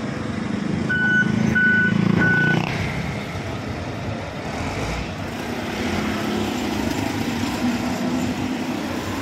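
A dump truck collecting garbage on a Manila street idles with a rumbling engine while three evenly spaced reversing beeps sound early on, then the engine drones on alone with traffic noise.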